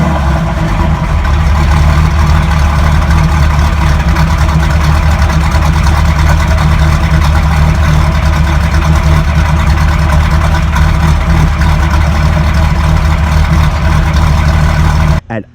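A Dodge Charger/Challenger fitted with a 4.3L V6 stroker kit idles with a loud, deep, steady rumble that holds evenly before cutting off at the very end.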